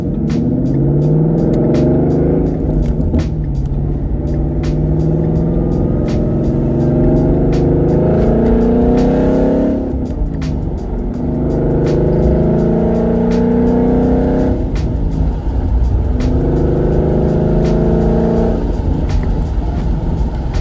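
A 2016 Ford Mustang GT fitted with an Armytrix exhaust revs repeatedly, each deep, loud engine surge rising and settling in a regular cycle of about four throttle blips, close by with no talk.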